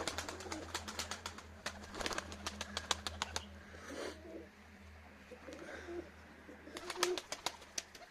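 Pigeons coo softly and repeatedly nearby, with a low steady hum underneath and occasional sharp clicks and rustles.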